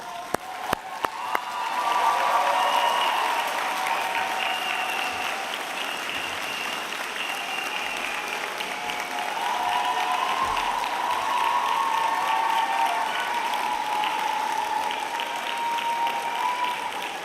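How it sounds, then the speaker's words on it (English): A graduation ceremony audience for the School of Arts and School of Humanities and Social Sciences breaks into sustained applause, a few sharp claps first, then a broad, even roar of clapping with light cheering that carries on steadily. "give them a round of applause"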